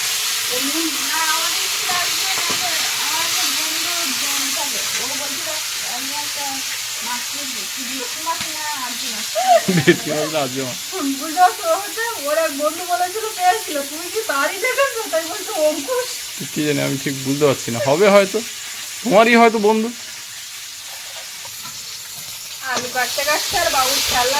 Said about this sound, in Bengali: আলুটা প্রথমে ভেজে নেব